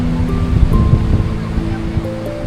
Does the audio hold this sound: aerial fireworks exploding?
no